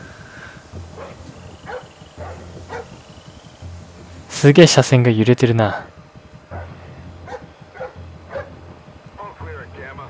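In Splinter Cell: Blacklist, a dog barks in a short, loud burst of several yips midway, while someone talks quietly on either side of it.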